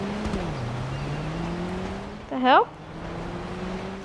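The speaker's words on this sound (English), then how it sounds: "It's one loud car." A loud car engine drones steadily through the GTA 5 street scene, roaring past as a rising whine, with a sharp squealing burst near the end and a brief spoken exclamation over it.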